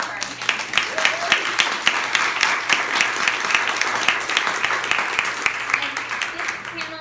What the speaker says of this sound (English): So a great big round of applause for our panel.